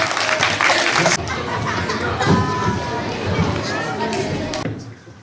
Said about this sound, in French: Merci beaucoup, les applaudissements